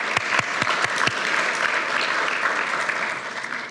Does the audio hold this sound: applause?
yes